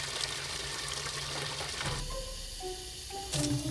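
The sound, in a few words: water from a bidet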